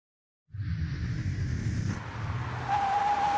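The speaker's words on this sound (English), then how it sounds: "A car pulls up." A car rolls up and stops with a steady engine and tyre rumble, starting abruptly and holding loud and close throughout, a high squeal-like tone creeping in near the end.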